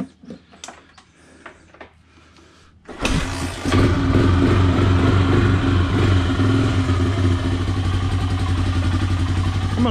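After a few quiet clanks, a 1985 Honda Big Red three-wheeler's engine fires and settles into a loud, steady, close-up running rumble that continues to the end.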